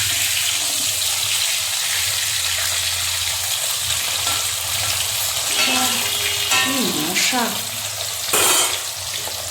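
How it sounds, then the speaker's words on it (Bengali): Potatoes fry in a pan in a home kitchen, a loud continuous sizzle and hiss throughout, with a person briefly speaking partway through. "আর এখানে আলু ভাজা হচ্ছে"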